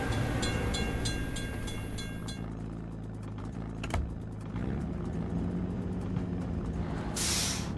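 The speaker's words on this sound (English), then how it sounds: "We have to wait for the train to pass." In a truck simulator video game, a train rumbles past a level crossing, a steady loud rolling roar with a ringing crossing signal early on, a sharp clank midway, and a hiss of air near the end.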